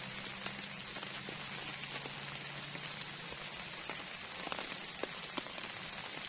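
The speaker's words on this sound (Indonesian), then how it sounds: "nggak taunya beneran malam ini hujan" Heavy rain drums steadily on a leaking tent at an overnight solo campsite: a dense, unbroken patter with scattered sharper drops, close and constant, with no voices.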